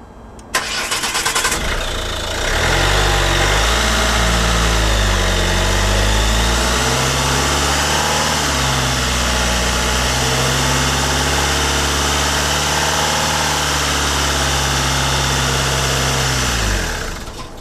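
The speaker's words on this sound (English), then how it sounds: "this engine should now start and not stall" A 2007-2012 Ford Mondeo 2.0 TDI diesel engine, after a fuel filter change, cranks and fires up loudly and close by, then settles into a steady, rough diesel idle that runs for the rest of the clip.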